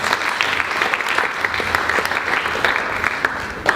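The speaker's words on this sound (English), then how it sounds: "A big round of applause for that." Conference audience at a keynote talk breaks into applause, a dense, steady wash of many hands clapping that carries evenly through the whole stretch with no speech.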